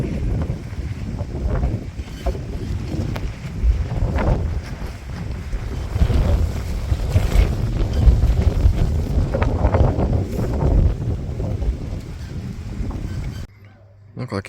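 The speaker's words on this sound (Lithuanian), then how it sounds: "bet kažkoks toks keistas vėjas" Strange gusty wind at an airfield on a competition morning buffets the microphone in a continuous low roar, with indistinct voices faintly underneath.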